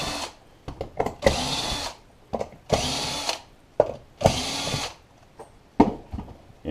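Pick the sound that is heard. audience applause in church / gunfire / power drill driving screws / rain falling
power drill driving screws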